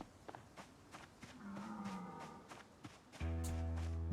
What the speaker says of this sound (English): I hear like farm animals, but where are they?